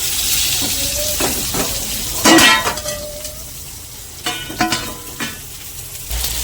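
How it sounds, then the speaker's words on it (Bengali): Eggplant and potatoes frying in hot oil give a steady hissing sizzle, broken by a few sharp clatters of a utensil against the pan, with no talking. "বেগুনটা হালকা ভাজা হয়ে গেছে, এবার তুলে নিচ্ছি"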